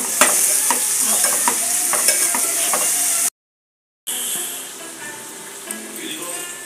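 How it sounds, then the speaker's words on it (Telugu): Chopped onions and green chillies stirred in a pan while frying for a dried prawn and egg curry, with steady sizzling, scraping and ratcheting spatula clicks, a brief cutout midway, then sizzle resumes. "4 ఉల్లిపాయలు, ఒక 4 పచ్చిమిరపకాయలు వేసుకుందాం. ఇవి బాగా ఫ్రై అవనిద్దాం."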